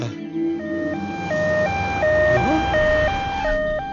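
An ambulance siren wails nearby in a steady two-tone up-and-down pattern, loud and continuous over faint background noise.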